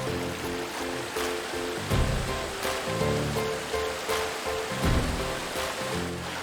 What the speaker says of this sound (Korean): 우리 산성마을을 통해가지고 이제 전달동까지 흘러가는 물이에요, 이게